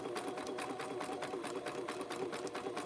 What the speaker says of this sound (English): I have more than one sewing machine, and I don't like how wide these stitches are.